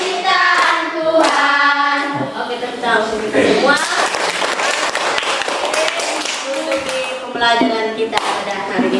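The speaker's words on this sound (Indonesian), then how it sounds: "tepuk tangan untuk kita semua" A classroom of students clapping together at the end of a lesson, bursts of hand claps mixed with children's voices calling out and singing.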